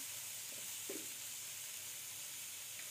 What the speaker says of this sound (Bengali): এবার ওই ডিম ও বেগুন ভাজা তেলেই প্রথমে দিয়ে দেব 2 টেবিল চামচ পেঁয়াজ বাটা, 1 চামচ রসুন বাটা